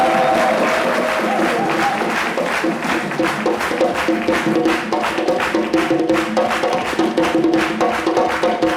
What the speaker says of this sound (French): Avec vos applaudissements, nous la recevons sur le podium